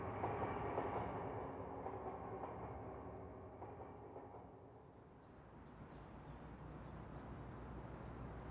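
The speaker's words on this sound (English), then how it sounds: "I was sure I heard the distant sound of a receding train" Faint, distant train rumbling and fading away, a soft low roar that thins out as it recedes, heard alone.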